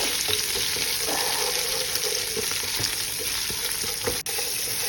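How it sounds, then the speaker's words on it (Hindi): Cumin seeds sizzle and crackle steadily in hot oil as they roast at the start of an egg and vegetable fried rice, a dense, continuous frying hiss heard close up with no talking. "ये देखिए जीरा आ गया इसमें। थोड़ी देर के लिए पकाएंगे ताकि थोड़ा सा ऑयल में रोस्ट हो जाए।"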